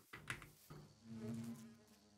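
A bee buzzes near its nest in Minecraft, a faint, wavering drone that rises and falls after a couple of soft clicks at the start.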